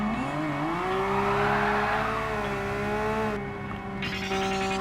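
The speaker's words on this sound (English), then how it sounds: "I'm driving a Porsche 911 with a Meeseeks Livery on it." A Porsche 911 GT3 RS with Meeseeks livery in Gran Turismo Sport revs hard, its flat-six wail climbing through the gears with a brief shift dip and a squeal of tyres near the end, loud and close.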